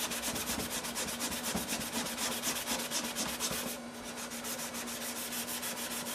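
Sandpaper rubs back and forth over the finish on a guitar body, following earlier block sanding, in steady rhythmic strokes that stay close and continuous, easing slightly toward the end.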